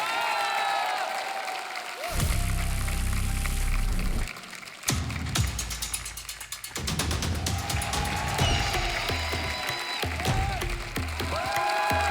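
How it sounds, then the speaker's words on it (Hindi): Applause from a studio audience at a television comedy show, dense clapping swelling in waves for several seconds, mixed with background music and a little crowd noise, with no clear talk over it. "जोरदार तालियां।"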